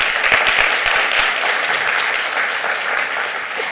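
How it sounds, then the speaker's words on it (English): An audience bursts into applause at a talk, with a few sharp individual claps standing out at the start before the dense clapping settles into a steady, fairly loud wash. "We should give him a round of applause."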